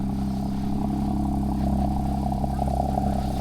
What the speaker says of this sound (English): Somebody started their car again